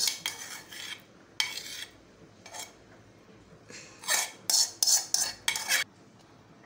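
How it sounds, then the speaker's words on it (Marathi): Grated red pumpkin scraped out into a wide plate for Malvani-style vadas: a series of metallic spoon-and-pan scrapes and clinks, short bursts separated by quiet gaps, growing quicker toward the end. "आता भोपळ्याचा किस मी एका परातीत काढून घेते"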